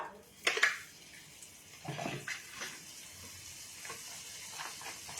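Butter goes into a hot pan for butter garlic paneer fried rice, and a soft, fairly quiet sizzle follows, with a few sharper clatters and stirring sounds breaking in over the hiss.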